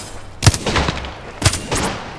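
Shotgun blasts in the video game Apex Legends: two loud, sharp shots about a second apart, each followed by a brief rattling tail, with no talk over them.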